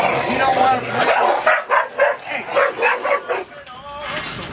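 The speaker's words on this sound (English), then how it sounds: "Big dogs moving in." Several dogs bark and yip excitedly at close range, in a rapid series of sharp barks with whimpers, while people talk over them.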